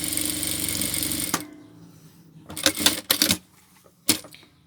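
A sewing machine stitches a log cabin quilt seam, a loud rapid mechanical run first, then falling quiet before several short bursts of stitching and a final brief one.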